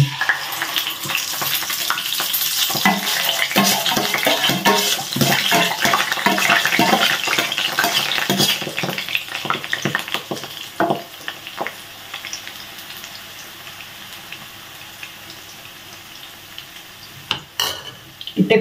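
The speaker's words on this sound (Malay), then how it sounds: "Sekarang kita goreng telur dah." Steady crackling sizzle of eggs frying in a hot pan, loud and close, with occasional stirring scrapes, thinning out toward the end as the heat is lowered.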